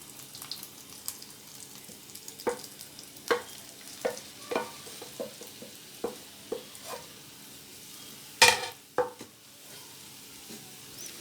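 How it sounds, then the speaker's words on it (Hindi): Bread crumbs roast in hot ghee for a bread kheer, a soft, even sizzle under repeated scraping and tapping of a spoon stirring the pan, with one louder clatter near the end and no voices. "हमारे ब्रेड क्रम्स फ्राई हो गए"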